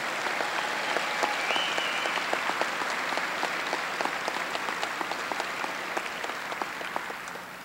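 Sustained applause from a large crowd at a high school graduation, steady dense clapping that continues throughout and fades slightly toward the end.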